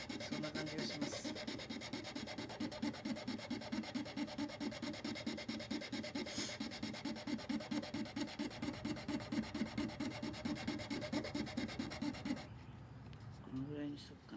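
A piece of wood is shaved down by hand in quick, even rasping strokes, about two or three per second, continuing steadily before stopping near the end.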